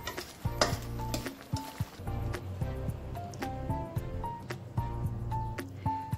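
Jackfruit cooks down in thick syrup in a pan, giving a steady low bubbling sizzle broken up by repeated scraping and clinks of a utensil stirring against the metal.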